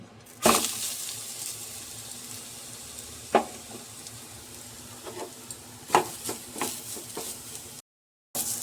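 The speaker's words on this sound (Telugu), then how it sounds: "ఒక కప్పు క్యారెట్ అయితే వేసుకొని వేయించుకో" Grated carrot for carrot halwa frying in a pan, with a quiet steady sizzle broken by a few close scraping stirs and clinks of a spoon.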